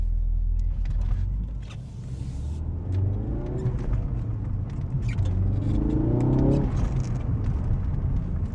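Cold Ford Focus RS MK3 with a COBB air intake driving gently, its throaty engine rumbling loud and steady throughout, rising in a couple of mild revving swells without heavy boost.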